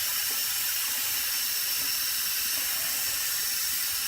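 Steady, close water spray hisses without a break while barley seeds for a fodder system are rinsed, loud and constant throughout.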